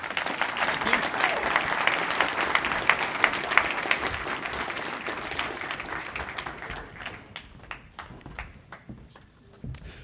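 An audience at a university AI showcase breaks into sustained applause, a dense wash of clapping that holds strong for several seconds and then thins into scattered individual claps as it dies away.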